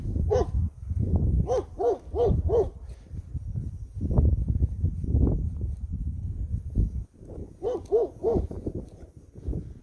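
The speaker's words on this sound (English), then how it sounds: "Dang, the dog started chasing right after me." A dog outdoors barks in quick rhythmic bursts, first a run of four close loud barks, then a rough, low stretch, then another three-bark burst near the end.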